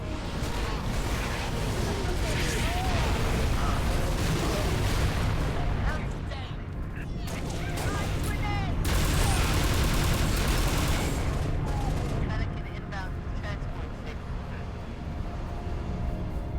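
An artillery strike called in with a target locator in Halo Reach, a sustained barrage of heavy booms and rumbling blasts rolling over one another, loud and dense, with voices talking through it.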